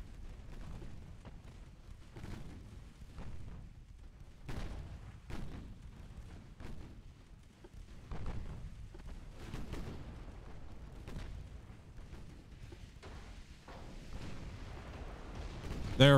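Secondary gun fire pounding a warship in Ultimate Admiral: Dreadnoughts comes as a steady series of muffled booms and impacts, some sharp cracks, over low rumbling battle noise with a voice talking over it.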